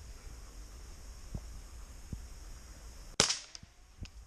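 A single sharp gunshot fired at peahens cracks out, close and loud, after a stretch of quiet background hum and a few faint knocks, followed by brief echoing clicks as it fades.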